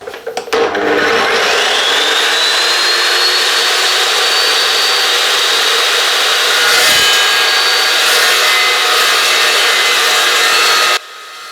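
An Evolution metal-cutting mitre saw spins up and slices through a 3 mm thick steel tube, a loud, sustained high whine with a grinding edge for about ten seconds before stopping abruptly.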